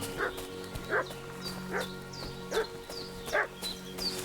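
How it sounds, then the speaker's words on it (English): A dog barks repeatedly at a distance in the video game Kingdom Come: Deliverance II, roughly six evenly spaced woofs over a low background hum, with no talking. "The dog is barking."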